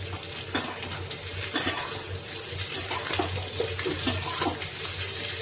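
Capsicum and tomato being stir-fried in a pan for chili chicken, with a steady sizzle and scattered scraping stir strokes and light clanks of utensil against pan.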